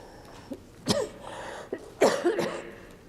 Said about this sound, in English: I'm going to start coughing again.